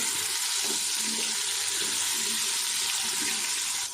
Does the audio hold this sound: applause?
no